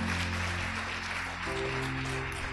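A church congregation gives loud, dense applause during a worship service, a continuous wash of clapping over sustained low musical tones, with no speech.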